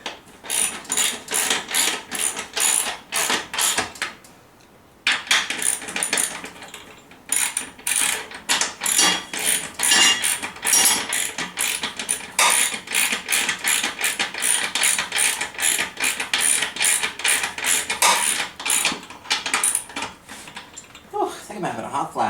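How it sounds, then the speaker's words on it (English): A Husky ratchet with a 3/8 inch socket clicks in rapid, steady bursts close by, pausing briefly a few times before resuming its sharp, repetitive pawl chatter. "instead I'm using my nice Husky brand ratchet"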